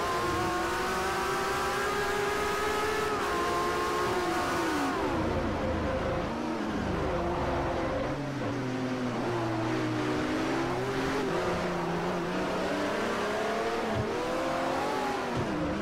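Ferrari 599 engine in Forza Motorsport 4 at Mugello Circuit, a loud continuous roar climbing and dropping through gears, with sharp shifts and revving swings throughout.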